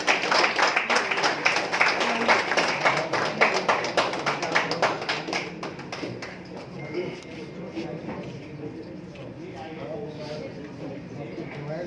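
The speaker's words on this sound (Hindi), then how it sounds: "तालियों की गड़गड़ाहट" An audience at an evening community honours event at the Academy of Fine Arts gives loud, rapid clapping during a memento presentation. The clapping fades out over the second half while someone talks over it.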